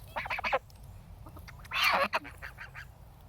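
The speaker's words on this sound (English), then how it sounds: "And she is our little gray goose." Gray goose on a farm giving a few short honking calls in bursts, close by and fairly loud against quiet outdoor background.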